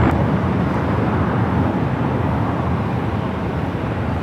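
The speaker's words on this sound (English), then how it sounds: "It's the flight coming in from Osaka, Japan. Flight 60, 787-9 Dreamliner." Broad, steady roar of a Boeing 787-9 Dreamliner arriving from Osaka, Japan, heard from near the runway at Los Angeles airport, holding loud and even throughout with no talk.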